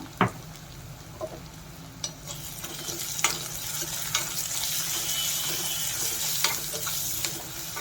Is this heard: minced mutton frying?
yes